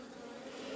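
Honeybees buzz steadily in a hive colony, a soft, continuous hum from many insects close by, faint and without voices.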